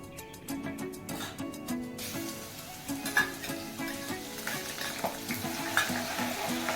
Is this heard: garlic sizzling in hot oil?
yes